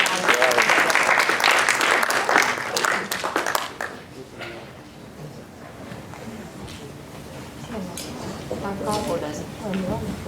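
Audience applause at a Fridays For Future event in San Daniele del Friuli, a loud burst of clapping that fades after a few seconds, followed by quieter room sound and someone speaking.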